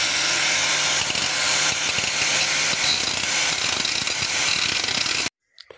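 An angle grinder grinds a welded piece off a shock absorber bolt, a loud, harsh continuous metallic roar up close that runs for about five seconds before cutting off abruptly.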